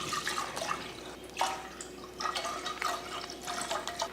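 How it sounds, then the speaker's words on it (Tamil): Milk, one liter of it, being poured into a pot for payasam, a soft, continuous liquid splashing and trickling close by with a few brighter splashes, no talking. "பாயசம் பண்ணுறதுக்கு நான் வந்து 1 லிட்டர் பால் சேர்த்துக்கிறேன்."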